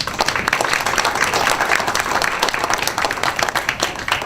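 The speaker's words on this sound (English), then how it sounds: "Please give them a round of applause." Steady, dense applause from an audience at a Hispanic Heritage Month kickoff event, a continuous even wash of many hands clapping with no break.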